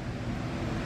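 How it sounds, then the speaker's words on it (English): A Vulcan Outlaw stick welder lays a 3/32 6010 rod bead on quarter-inch steel plate, giving a steady, dense crackling hiss up close with no pauses. "That's the Vulcan Outlaw laying down some 6010"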